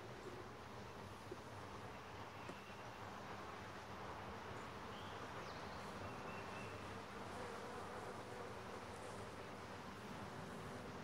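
Honeybees crowding both sides of a hive frame during an inspection of a first hive, giving a steady, faint, continuous hum with no talk.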